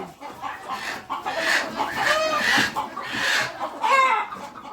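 Several chickens in a farm poultry shed, some sitting to lay eggs, cluck and squawk continuously, close by and fairly loud, their calls overlapping throughout.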